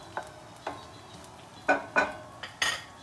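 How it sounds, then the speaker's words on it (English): A utensil scrapes and clinks against a pan several times in a short irregular series while garlic sautés, over a faint background sizzle. "we saute the garlic a little bit"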